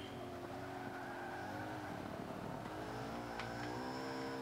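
Tires of a race car in Forza 5 squeal and skid as the car slides out, with a steady engine drone running underneath the whole time and no one talking.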